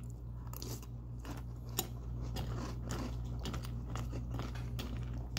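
Dry Pop-Tarts cookies and crème cereal crunches between the teeth in quiet, close bites, a steady run of brittle crackles over a low hum.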